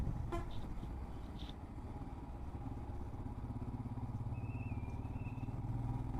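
A long-ride motorcycle cruises down a highway with a continuous engine drone. A couple of short horn toots sound near the start, and traffic noise stays faint in the background.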